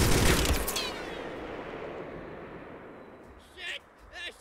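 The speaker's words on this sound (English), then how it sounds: "They're shooting at us!" Gunfire in the war game Mud and Blood: a sharp burst of shots at the start, then a long decaying rumble, with short clipped bursts returning near the end.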